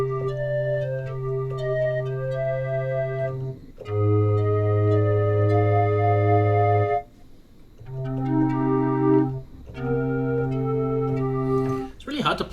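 Calliope factory patch on a Roland XP-50 synthesizer keyboard, playing bright whistle-like sustained notes in short phrases with two brief pauses, loud and close, with no speech.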